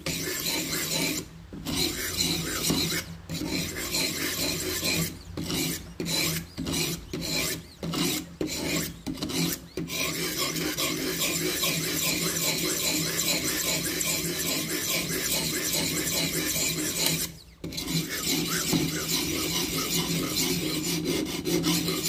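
A new Damascus steel blade is sharpened edge-on with steady, continuous rasping strokes, loud and close, broken by a few short pauses early on and another near the end.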